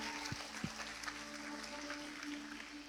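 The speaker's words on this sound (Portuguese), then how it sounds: "Então uma salva de palmas pela vida deles," A church congregation claps, a moderate, steady patter of many hands heard from a distance, fairly soft overall, with a couple of sharper close claps near the start.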